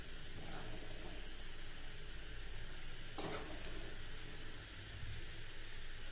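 Shevai ingredients being stirred together in a pan, a steady sizzling hiss with a sharp scrape of a utensil partway through and no voices.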